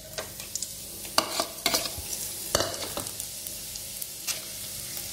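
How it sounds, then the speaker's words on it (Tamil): Whole spices — cinnamon, cloves, cardamom and bay leaves — hit hot frying oil in a pan for a paneer and green peas masala, giving a steady close sizzle broken by sharp clinks and scrapes of a stirring spoon, with no talk. "அந்த ஆயிலேயே நம்ம தட்டி வச்சிருக்கிற பட்டை கிராம்பு, ஏலக்காய், ஒரு ரெண்டு பிரிஞ்சி இலை போடுறோம்"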